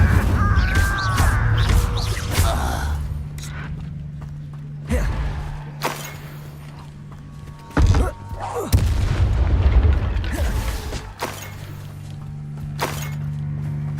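A fire spell cast in Hogwarts Legacy bursts out amid combat: several sharp booms and whooshing blasts, loud and close, scattered over shifting game sounds with brief pauses between.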